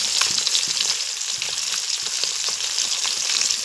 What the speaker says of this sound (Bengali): এখন আবার সুন্দর মাছ ভাজা হচ্ছে ছাকা তেলে